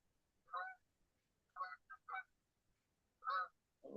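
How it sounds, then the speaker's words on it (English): Several seagulls give short, nasal honking calls outdoors near a racetrack, each call separate against a quiet background, with a few in quick succession. "Hearing the seagulls, they're not liking me."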